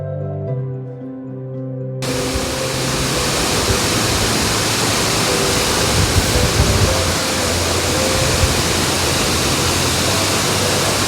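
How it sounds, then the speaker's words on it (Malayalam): A small waterfall in a forest in Hamilton roars in a steady, loud, close hiss of rushing water that begins abruptly after a couple of seconds of quieter sound, with no one talking. "ഇതൊരു ചെറിയ വാട്ടർഫോൾസ് ആണ്."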